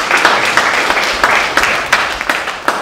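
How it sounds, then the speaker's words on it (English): Congregation applauding at the close of a Sunday Catholic Mass in a church, a dense patter of hands with sharper bursts, steady and fairly loud throughout. "We wish them well and we applaud them also."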